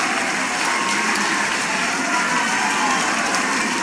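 A dense, continuous wash of crowd noise at a SpaceX Falcon 9 rocket launch, cheering and applause blended into a steady roar, loud and unbroken throughout.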